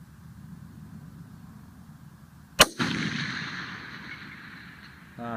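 A single sharp rifle shot cracks out at a shooting range target in the final round, a loud close report with a brief ringing tail, set against a low steady background rumble.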